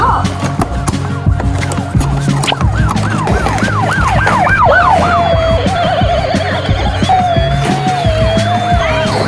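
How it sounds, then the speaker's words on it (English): A toy police car siren wails loudly and close, sweeping up and down in repeated cycles before settling into a steadier tone. Clattering mechanical noise runs underneath throughout. "This is a police car."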